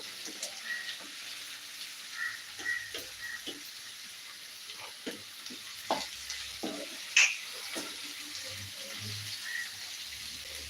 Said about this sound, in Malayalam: അപ്പോൾ നമുക്ക് ഈ തക്കാളി കൂടെ ഇട്ടെന്ന് നന്നായിട്ട് ഒന്ന് ഇളക്കി കൊടുക്കാം